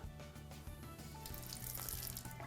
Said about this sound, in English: we do have a substantial leak around the base of that spout